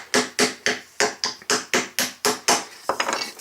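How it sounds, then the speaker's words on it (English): A small hammer taps holes into a thick aluminum can, about ten sharp, close metallic strikes at an even pace, followed by a shorter rattling flurry, with no talking. "So I'm going to use my little hammer"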